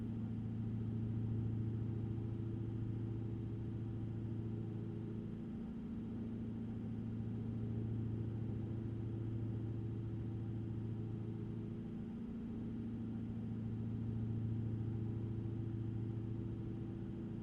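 A Kenworth truck engine idles in American Truck Simulator, a low, steady diesel rumble with a slow, gently pulsing throb that swells and eases a few times, heard alone at a fairly quiet level.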